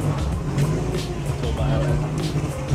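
Subaru Impreza STi rally car, left-hand drive, with a steady low engine drone and turbo hiss throughout, heard from inside or near the car while people talk over it.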